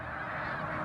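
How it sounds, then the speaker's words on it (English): Lesser snow geese on spring migration honk in a dense, continuous chorus, many overlapping calls forming a steady moderate clamor. "Lesser snow geese."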